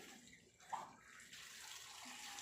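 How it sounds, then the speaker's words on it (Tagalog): Water runs steadily into a tub or basin, a soft continuous splashing hiss at low level, with a brief knock near the start. "Tubig. Tubig."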